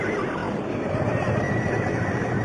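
Horse whinnying amid a dense, noisy background with faint hoof clatter, fairly loud and continuous throughout, no clear speech.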